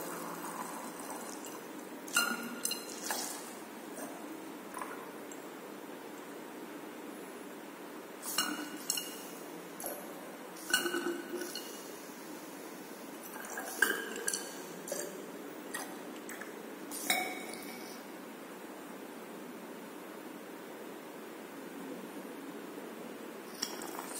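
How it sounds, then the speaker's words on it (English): Glass labware clinks and taps in a lab during preparation for a conductometric titration of sulphuric acid, acetic acid and copper sulphate, with distilled water being added; sharp intermittent clinks stand out over a quiet room. "Now we have to add 85 ml of distilled water"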